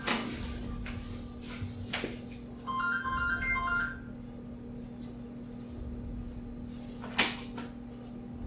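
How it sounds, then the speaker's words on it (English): A real phone's ringtone chimes briefly, a short melodic electronic pattern sounding over background game audio with a steady hum and a few knocks. "Sorry about that phone ringing."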